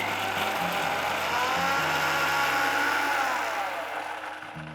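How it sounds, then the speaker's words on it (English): An electric blender grinds garlic, red chili powder, turmeric and homemade garam masala into a paste. The motor gives a loud, steady whir with a shifting ratcheting pitch that eases slightly toward the end, and no one speaks. "Let's next grind this into a fine and smooth paste."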